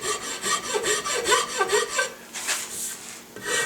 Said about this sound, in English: And then simply file and rasp